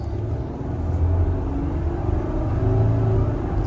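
A 1999 Ford Ranger engine hums and rumbles steadily from inside the cab, rising slowly and smoothly as gas is applied, with a continuous low drone and no talking.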